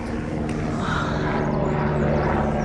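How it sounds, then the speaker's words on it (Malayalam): A helicopter passes over Namche Bazaar, a mountain town on the route to Everest, giving a steady loud engine and rotor drone that fills the whole stretch with no talk. "എപ്പോഴും ഇങ്ങനെ ഹെലികോപ്റ്റർ പോയിക്കൊണ്ടിരിക്കും."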